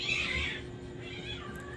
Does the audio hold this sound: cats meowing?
yes